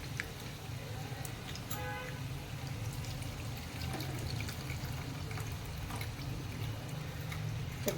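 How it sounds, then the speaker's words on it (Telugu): Tamarind extract poured into a curry pot of spiced oil for a tomato curry, giving a steady liquid pouring and trickling with a low background hum throughout, close and alone. "కారం నూనె పెట్టుకున్న చింతపండు పులుసు వేసుకుంటున్నాను"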